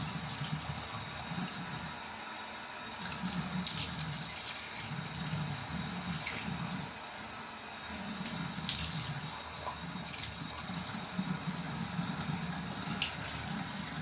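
Running tap water rinses foamed face cleanser off the face at a bathroom sink during a night-time skincare routine, a steady close splashing and trickling stream that continues for the whole span with small surges, and no talking.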